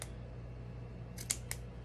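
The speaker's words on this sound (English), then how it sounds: "I'm just going to cut off anything else that's left over." Scissors snip off the leftover ends of a braid for a hermit crab ladder, two or three crisp, close cuts over a quiet background hum.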